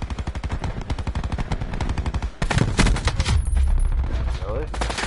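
Rapid automatic fire from the Rampart gun in a shooter game, a long steady burst of close, loud shots that briefly pauses and resumes in a denser, heavier stream.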